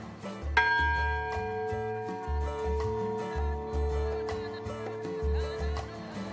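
The old Fort Ross bell, cast at merchant Mikhail Makarov's foundry, is struck once, its bright metallic ring sustaining and slowly decaying over several seconds above a rhythmic low background.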